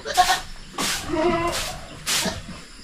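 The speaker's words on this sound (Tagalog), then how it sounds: "Yung lalaki natin kambing dito, yung Anglo." Anglo-Nubian goats on a farm bleat four times in roughly three seconds, each call a loud, close, wavering cry with short pauses between.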